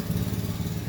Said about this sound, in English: that's my son making noise with his lawnmower